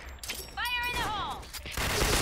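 A video game gunshot scoring a headshot, a quick burst of loud cracks followed by shattering and game sound effects, with voices talking over it.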